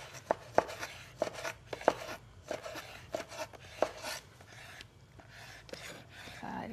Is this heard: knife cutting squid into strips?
yes